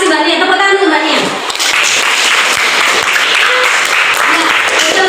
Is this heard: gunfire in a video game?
no